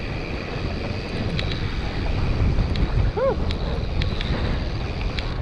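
Steady wind roar and buffeting against the microphone while cycling downhill through a canyon from an airstrip in winter, a continuous rushing noise with no talk.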